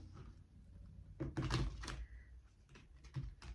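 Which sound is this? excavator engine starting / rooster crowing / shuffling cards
shuffling cards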